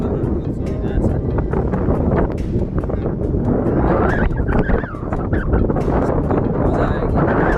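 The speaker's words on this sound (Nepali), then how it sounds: "साह्रो हावा चलिरहेको छ है कस्तो हावा चलिरहेको छ" Strong, gusty wind roars across an open hilltop in Arghakhanchi, a loud continuous buffeting rush against the microphone that stays heavy throughout while voices talk faintly beneath it.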